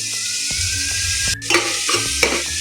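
Spices and tomatoes stirred in a frying pan for pav bhaji, loud close sizzling with repeated spatula scrapes and knocks against the pan, no talk.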